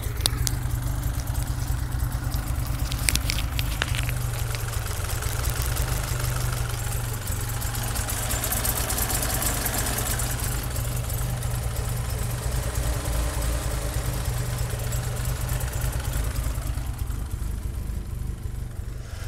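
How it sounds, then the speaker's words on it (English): A 1980 Fiat 2000 Spider with a 5-speed manual idles steadily with the microphone close to the engine bay, a loud, even, rumbling idle holding constant throughout with no speech. "I'll put the microphone down a little closer to the engine itself so we can get a good listen"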